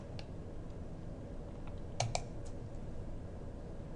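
A computer mouse clicking in office software, two quick clicks close together midway, small and sharp over a steady background hiss, with no talk.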